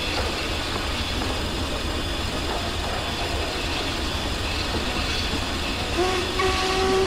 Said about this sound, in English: I love that whistle.